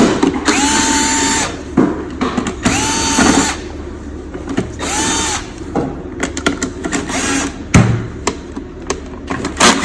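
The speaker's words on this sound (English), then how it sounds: "Loosen this screw and remove these two screws." A power screwdriver takes screws out of a c400 handling mechanism during a service job, with three whirring bursts in a row followed by ratchety clicks and handling clatter, close and loud.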